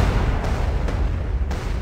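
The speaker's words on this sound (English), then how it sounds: "See, it drops bombs, though." Bombs dropped from a glider in the video game Archeage Unchained explode in a rumbling, dense low boom that rolls continuously, with a few sharper bursts standing out at short intervals.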